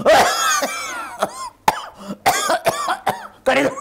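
A film and mimicry performer coughs repeatedly on stage during a chat show, a string of loud, close, harsh bursts with short throaty gaps between them and no other sound.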